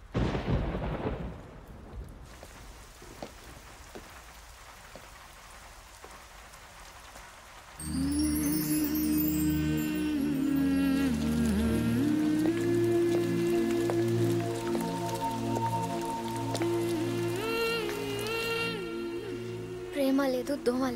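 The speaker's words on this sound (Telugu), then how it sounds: "వర్షం పడుతోంది" Heavy rain with a thunder crack at the start, then a steady soft hiss of rainfall, soon overlaid by loud music that carries on to the end.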